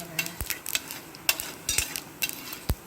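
Urad dal and mustard seeds fry in hot oil in a pan for a coconut stir-fry, giving a steady soft sizzle broken by sharp pops and a few scraping stirs and utensil clinks, close and moderately loud with no talking.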